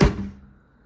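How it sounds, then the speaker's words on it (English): A slam-latch door on a 2023 Sierra 3440BH RV shuts with one close, solid thunk and a short dull decay. "You have your real slam latch doors."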